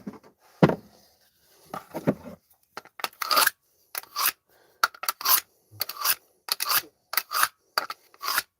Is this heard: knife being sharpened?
yes